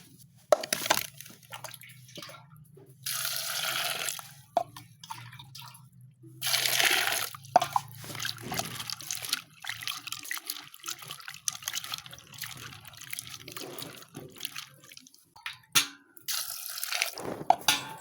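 Beans are washed in water for the northern Ghana street food nyombeika, with repeated sloshing, splashing and dripping bursts close by, broken by short pauses and no talk.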